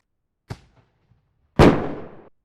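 Fireworks go off in the survival game No One Survived: a small sharp pop, then after about a second a louder, broad crackling burst that fades quickly, with no talking.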